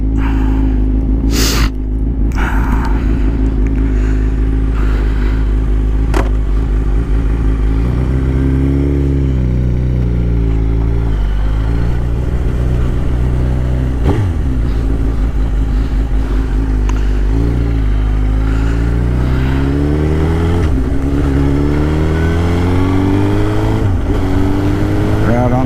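Suzuki GSX-R 1000 litre-class sport bike heard from the rider's seat, engine loud and close with repeated rising and falling revs through gear changes, wind rush constant throughout.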